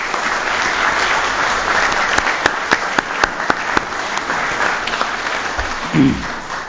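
Applause fills the room at a city board of mayor and aldermen meeting, broad steady clapping from the attendees with a run of sharp, close claps in the middle, then it fades and a low voice breaks in near the end.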